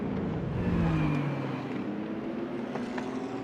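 Porsche and LMP2 prototype race cars at a Le Mans Cup circuit roar into a turn, a loud steady engine drone with falling pitch as one car passes close, continuing at high revs.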